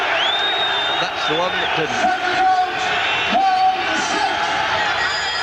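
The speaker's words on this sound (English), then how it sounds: "Crowd really going now" An arena crowd roars and cheers during a boxing bout between Chris Eubank and Sugar Boy Malinga, a continuous wall of noise with whistles rising above it, under a commentator's voice.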